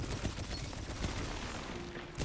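Gunfire in the shooter video game Destiny 2: a loud, dense burst of rapid shots stacked over a noisy game mix, continuous throughout with no talk.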